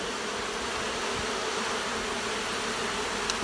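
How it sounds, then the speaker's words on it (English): A dense, continuous buzzing of many honey bees massed on a window, close and steady throughout, with no talking. "I just took care of a mass of bees on this window"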